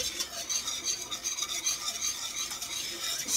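A chocolate cake mixture with milk and butter is stirred briskly with a utensil against the bowl, a close, steady rhythmic scraping and swishing that continues without pause.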